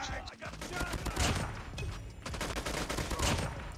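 Rapid automatic gunfire in the mobile game Call of Duty Mobile, dense continuous bursts of shots at loud, close level with little pause, with talk mixed underneath.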